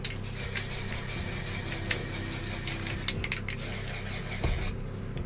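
A spray can coating the underside of a laser destroyer miniature, a steady close hiss running almost throughout, broken by a few short bursts and tapering off near the end.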